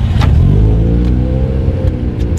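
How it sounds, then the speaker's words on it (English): A car engine starts and settles into a loud, close, low idling rumble with steady harmonic hum, a few faint clicks above it. "I'm just gonna start the car."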